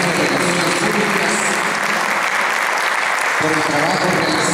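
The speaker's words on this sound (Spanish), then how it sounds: "brindemos fuertes aplausos a la Comisión de Relaciones Públicas" Applause for a public relations committee: a dense round of clapping from a large audience fills the room. A voice speaks over it in Spanish.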